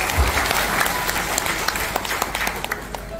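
Audience applause welcoming newcomers at a health talk, a steady dense wash of clapping that holds evenly throughout.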